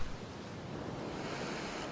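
Sea waves wash steadily against the shore in a continuous broadband surf roar, with wind buffeting the microphone and no voices.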